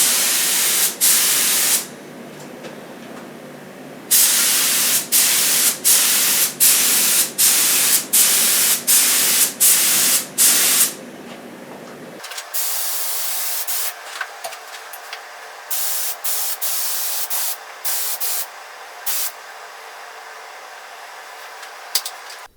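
Clear lacquer coats sprayed all over a Telecaster guitar neck: repeated hissing bursts from a spray can, close and loud, then quieter intermittent sprays, with no talking.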